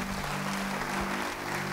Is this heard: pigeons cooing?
no